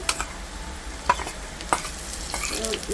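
Ginger-garlic paste frying in a pan with whole cumin, cinnamon, chili and cardamom for a chicken bhuna curry, giving a steady close sizzle with a few sharp spatula scrapes and clicks, no talking.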